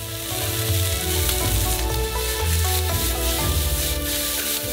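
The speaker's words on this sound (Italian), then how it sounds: "Ora aggiungiamo tutte le verdure. Soffriggiamo per un totale di 2 minuti." Vegetables for stir-fried soba noodles sauté in a hot pan, making a dense, continuous sizzle with scraping stirs. A low hum runs underneath, and no one speaks.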